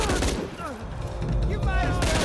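Heavy, relentless gunfire from the Shadow of the Tomb Raider video game, a loud, dense barrage of overlapping shots with shouting voices rising and falling over the din.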